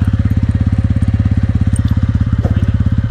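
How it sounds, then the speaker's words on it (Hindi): A motorcycle idles close by, either a TVS Ronin 225 or a Bajaj Pulsar 150, its exhaust giving a loud, fast, steady thumping pulse that holds even throughout. "तो गाइस देख सकते हैं कितना प्यारा एग्जॉस्ट है उसका।"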